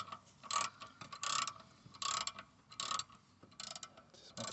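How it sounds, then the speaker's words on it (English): A ratchet with a deep 14mm socket turns a bolt on a Mazda 6 during rear brake caliper and wheel bearing work, giving short bursts of quick clicking ratchet strokes close to the microphone, separated by brief pauses. "just get a deep 14mm socket and then go through the other side there and just get onto it"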